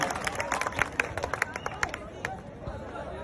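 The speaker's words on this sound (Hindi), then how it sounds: "युवा दलों की धरकर जोरदार तालियां बजा करके हर्ष ठकारा जी को आमंत्रित करता हूं।" Audience at a rally clapping as a speaker arrives, scattered sharp claps over crowd chatter and murmuring voices, moderately distant and tapering off.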